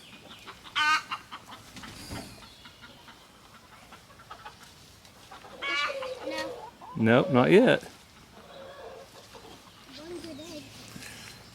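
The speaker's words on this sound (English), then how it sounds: "So these chickens are going to go around and explore." Backyard chickens clucking and squawking close by in short bursts, with one louder flurry of calls partway through, while a person talks now and then.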